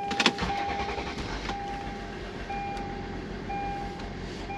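A Hyundai SUV starts using a proximity key: a short burst of starter and engine noise at the very beginning, followed by a steady idle hum with faint tonal chimes.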